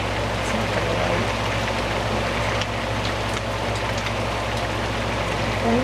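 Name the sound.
heavy rain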